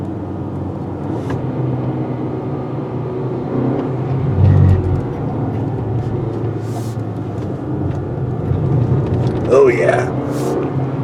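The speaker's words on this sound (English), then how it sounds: "That was some brisk 30-mile sports sedan driving we were doing on those tight mountain curves." Inside a 2020 Acura RDX pushed briskly along tight mountain curves, a steady low engine and road rumble fills the cabin, swelling slightly now and then, while a person speaks briefly.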